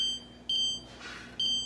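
A kitchen timer gives repeated bright electronic beeps in regular bursts, with a soft rustle between them and no talking.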